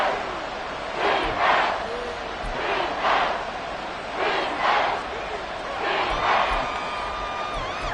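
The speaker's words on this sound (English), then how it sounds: "The Arrowhead crowd in full roar." A stadium crowd at Arrowhead roars in a football video game during a Chiefs versus Falcons match, a steady loud wall of cheering that swells in repeated rhythmic surges.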